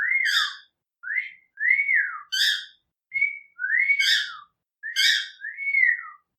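Someone whistles a series of short melodic phrases with brief pauses between them, clear and close with no background noise.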